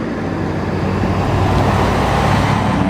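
A Harley-Davidson Ultra motorcycle riding on an open road: loud, steady low engine rumble mixed with wind and road roar, constant and close with no speech.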